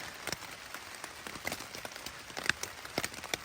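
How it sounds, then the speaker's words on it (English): Rain pattering on a tent after it was pitched on a long-distance hike, a steady soft patter broken by scattered sharper drops, fairly quiet and close with no talking. "I got the tent set up just before the rain hit"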